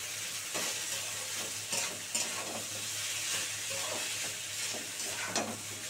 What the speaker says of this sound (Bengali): এবার এটা দিয়ে হালকা হালকা করে নাড়বো।